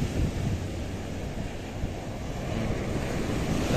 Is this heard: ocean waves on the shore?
yes